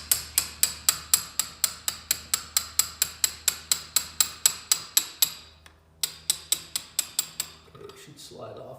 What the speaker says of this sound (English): I always use a brass punch when you're beating on stuff like this because it's softer than the metal